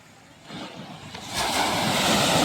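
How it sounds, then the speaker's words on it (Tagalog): Ocean surf rolls in and builds to a loud, broad wash of strong breaking waves at San Juan, La Union, with wind buffeting the microphone. "wow malakas sa alon."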